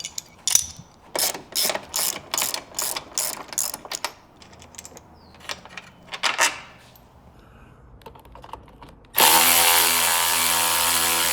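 Ratchet wrench clicking in quick bursts while removing the bolt that secures the CB bar to the roll bar of a Jeep JL Wrangler, followed by a few separate clicks and then a loud, steady broadband hiss or whir near the end.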